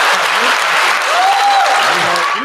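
An audience claps loudly and continuously for a couple of seconds, dense steady applause with some faint voices mixed in.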